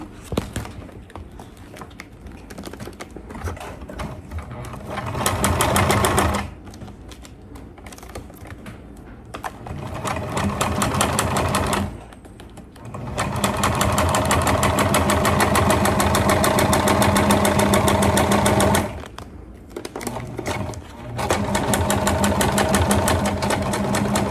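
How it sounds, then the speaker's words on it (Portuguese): A sewing machine stitches the seams of a clear crystal plastic backpack in loud rapid bursts of several seconds each, separated by short quiet pauses. "costuramos os dois lados, né, da mochila"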